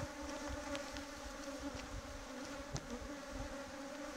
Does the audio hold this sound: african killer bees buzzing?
yes